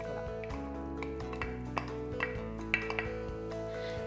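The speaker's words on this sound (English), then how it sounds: "In a large pot, add the olive oil and the butter, and to that add the vegetable mixture." Chopped onion, carrot and celery go into a large pot with olive oil and butter, with a few soft clinks of utensil on metal and light stirring over a low, quiet background.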